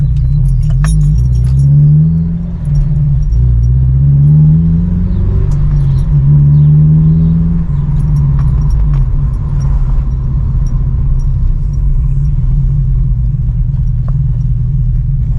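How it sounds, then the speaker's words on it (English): A 2006 Honda S2000 AP2, rebuilt after a wreck, heard from inside on a test drive, with a loud steady engine and road rumble and a few rising and falling revs as it accelerates through gears, keys jingling faintly. "that was the test drive on the S2000"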